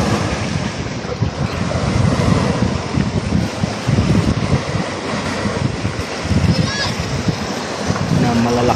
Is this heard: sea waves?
yes